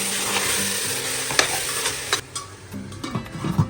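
Mutton biryani masala with chilli powder and garam masala being stirred and fried in a pan, a steady sizzle broken by repeated scraping strokes of the spoon against the metal, close and loud, with no one talking.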